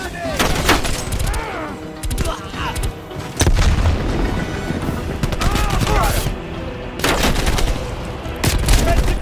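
A grenade explosion and bursts of gunfire in Call of Duty: Black Ops Cold War during the City of Fakes mission, several sharp loud booms and rattling shots recurring over nine seconds, with soldiers shouting throughout.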